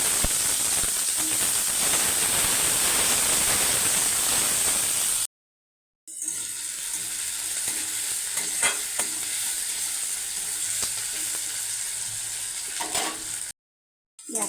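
Sliced onions fry in hot oil tempered with nigella seeds and chilli, giving a loud, steady sizzling hiss that cuts out twice for a moment, with faint stirring scrapes.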